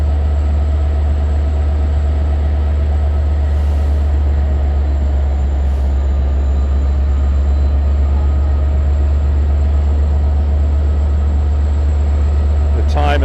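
A Long Island Rail Road substitute train with C3 cars stands at Westhampton station, its engine idling in a steady, loud low drone with a faint high whine above and brief hisses, unchanging for the whole stretch.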